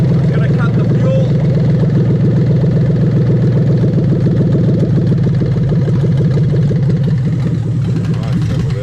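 A 1995–1996 right-hand-drive Lexus LS400 with the 1UZ-FE V8 idles steadily and smoothly, a continuous close low rumble that holds even for about nine seconds, with a pulley fault noted on this engine.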